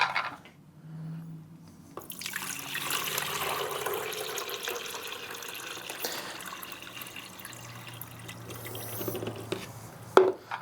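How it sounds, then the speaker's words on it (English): Water pours into the reservoir of a Rancilio Silvia single-boiler espresso machine in a soft, steady trickle with drips, quiet and close, after a brief hum at the start. "Then we'll fill the reservoir."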